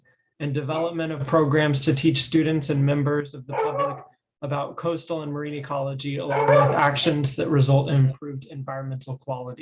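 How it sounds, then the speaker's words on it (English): A dog barks in the background of a room while a person speaks steadily and clearly over it, the barks blending beneath the talking. "Sorry about my dog in the background,"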